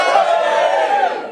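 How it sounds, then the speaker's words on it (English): A comedy club audience whoops and cheers together in one loud, sustained burst of hollering voices that fades slightly near the end. "let's get a whoop and a cheer for anyone who's got a job"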